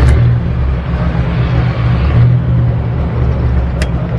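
Datsun Fairlady Roadster racing-prepared engine pulling steadily in first gear, a low continuous drone heard from inside the car with no clear rise in revs, loud and even throughout.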